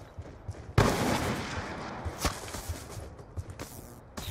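Gunfire in the Call of Duty Black Ops 2 video game, a loud burst opening the clip followed by a sustained rattle of shots with sharp individual cracks scattered throughout.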